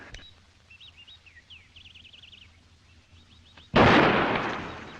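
A single loud pistol shot from an old-fashioned duel cracks out after a stretch of quiet birdsong, then booms and echoes as it slowly fades.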